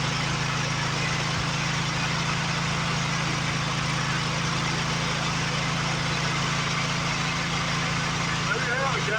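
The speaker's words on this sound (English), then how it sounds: "Got an LT180 John Deere fired up in front of it again." A John Deere LT180 lawn tractor engine runs at a steady idle, a constant low hum with a broad wash of noise over it, with no break or change across the clip.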